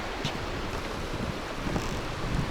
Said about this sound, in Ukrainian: Річка Лімниця.